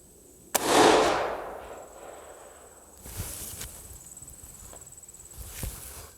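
A single sharp gunshot from a firearm firing a cast-bullet load of Brinell hardness 15, loud and close with a short ringing tail, followed by fainter clicks and shuffling handling sounds.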